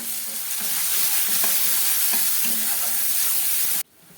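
Onions fry in hot oil with bay leaf, cardamom and cinnamon, giving a loud, dense, continuous sizzle up close with a few faint stirring knocks. It cuts off abruptly just before the end.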